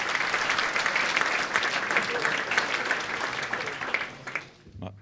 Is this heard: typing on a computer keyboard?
no